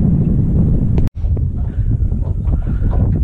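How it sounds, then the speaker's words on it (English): Strong wind blowing on a bayou buffets the microphone in a loud, continuous low roar, briefly cutting out for a moment before gusting on with some faint rustling. "I'm trying to get in, get out of this wind"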